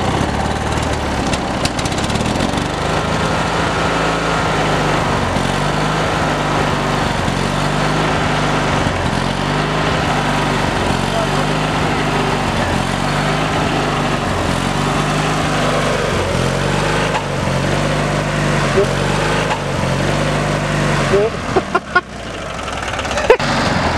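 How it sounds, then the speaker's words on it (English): A Craftsman garden tractor's opposed twin engine runs steadily up close, its low drone swelling and dipping in a regular surging rhythm for most of the clip before a few clunks near the end. "It's got the classic opposed twin surge."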